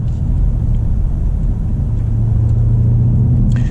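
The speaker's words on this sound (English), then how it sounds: "So I see even in sport mode, the engine is subdued" Subdued engine drone from inside a 2022 BMW Alpina B8 in sport mode while driving in pouring rain, a steady low rumble with a faint tonal hum, continuous and fairly loud in the cabin.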